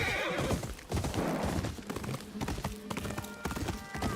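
A horse in the video game Ghost of Yotei whinnies loudly and close, followed by a run of clip-clopping hooves and snorts that continue in an uneven rhythm across the whole moment.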